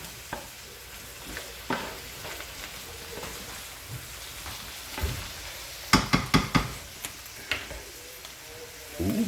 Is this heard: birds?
no